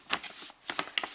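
Origami paper being folded for a snowflake, with several close, crisp rustling crackles in short bursts and a brief pause partway through.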